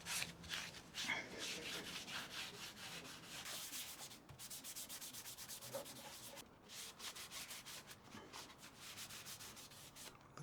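Paste wax is rubbed by hand onto a jarrah hardwood saw vise in quick, continuous back-and-forth strokes, close and steady, with brief pauses between passes.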